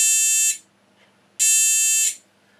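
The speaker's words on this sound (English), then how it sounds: "buzzer goes." A continuity tester's battery-powered buzzer gives two loud, steady electronic buzzes, each stopping abruptly, separated by a short silence; close and harsh.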